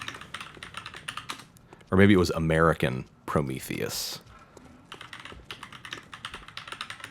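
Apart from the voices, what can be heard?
typing on a computer keyboard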